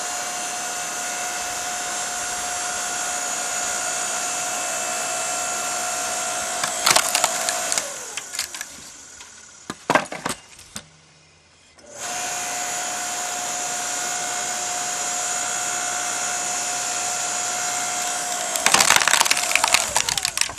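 A Ryobi log splitter works through seasoned firewood, its motor whining steadily, then wood creaks and cracks with sharp splintering snaps, the motor briefly dropping away before resuming its steady hum.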